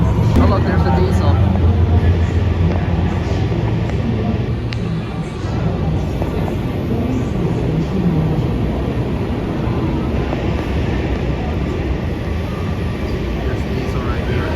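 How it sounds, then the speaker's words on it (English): A diesel train rumbles past at Reagan Washington National Airport Metro station, a loud steady low drone that fills the whole stretch, with people talking over it. "Oh look, there's the diesel."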